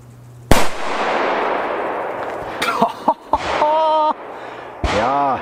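A Donnerschlag firecracker bangs once, loud and sharp, with a long crackling decay, followed by a few smaller pops and brief tonal whistles, at a fireworks comparison event.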